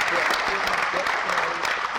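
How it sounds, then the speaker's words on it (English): An audience applauds a pair of school pupils at a school event, a dense steady clatter of many hands clapping continuously throughout, fairly loud and close, with a faint voice underneath. "I do believe that those two pupils deserve another round of applause"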